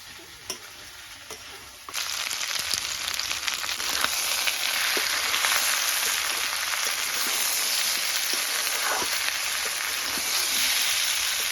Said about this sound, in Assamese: ইয়াতে আছে পিঁয়াজ আৰু জলকীয়া ভাজি